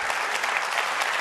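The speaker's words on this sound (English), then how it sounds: "And why are you clapping for that?" A live audience claps steadily and densely throughout, a close, continuous burst of applause with no voices over it.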